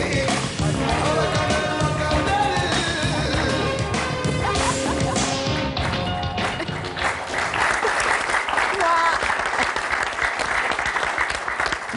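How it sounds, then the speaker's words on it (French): A studio audience on an Algerian TV game show breaks into sustained, loud applause that fills the room for the full stretch, with a faint voice beneath it. "Applaudissements."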